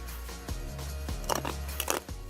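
Crunchy bites and chewing of a kale salad with croutons and sunflower seeds, close up, a few sharp crackling crunches over a steady low hum.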